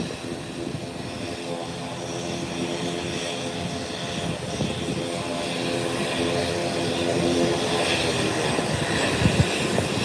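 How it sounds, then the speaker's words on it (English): A Beechcraft 1900 propeller aircraft at Howard Hamilton International Airport gives off a steady, droning engine hum with a layered propeller tone that grows slightly louder over several seconds, heard from a moderate distance. "here's one of the Beechcraft that we've been waiting on"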